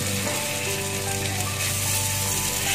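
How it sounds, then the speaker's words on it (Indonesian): Spice paste sautés in three to four tablespoons of frying oil for Madura-style soto, a steady, dense sizzle that holds evenly throughout with no talking. "kita tuangin 3-4 sendok makan minyak goreng, lalu kita tumis bumbunya ya"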